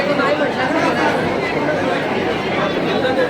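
A large crowd fills Swami's math at Palasdari on the day of the Swami's appearance festival, with steady, dense chatter from many voices close around, continuous throughout.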